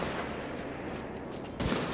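Sustained gunfire from the video game The Division beta, a continuous dense rattle of shots at steady level with a sharper, louder burst near the end, with no talking.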